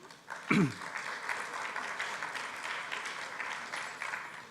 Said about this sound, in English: a round of applause for all of them would be very much appreciated